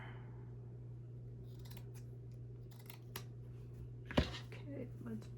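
Scissors snip through vintage handkerchief fabric in a few faint, scattered cuts, then one sharper close snip, set against a steady low hum with a person speaking quietly.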